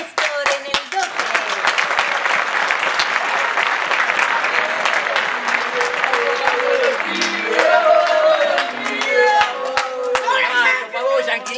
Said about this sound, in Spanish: Un fuerte aplauso para recibir a Néstor en el Doque